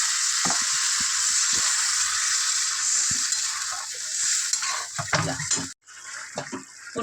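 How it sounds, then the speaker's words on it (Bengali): Carrots, potatoes and beans are stir-fried in spice paste, giving a dense, steady sizzling hiss with intermittent stirring knocks. The hiss drops out for a moment near the end, then resumes more softly. "এবার আমি গাজর দিয়ে দিলাম, আলু দিয়ে দিলাম, বিনস দিয়ে দিলাম, দিয়ে আমি এবার কষে নেবো।"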